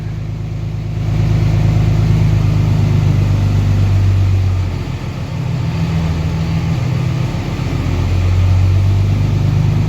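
A truck with a 5.9 engine and a VGT turbo swap drives along, its engine droning steadily with a few rises and dips in load, loud and close with no talk.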